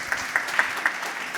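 An audience at a heritage and peace event claps briefly, several distinct sharp claps over a soft crowd wash, fairly quiet and short.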